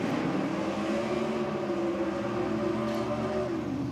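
A nostalgia drag racing car engine fired up at the strip, a loud rumbling idle with rough throbbing pulses that holds steady, heard from fairly close.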